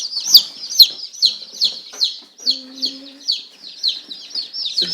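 4-H chicks in a brooder peep in a rapid, steady series of high chirps, close and clear, with a faint low voice briefly underneath.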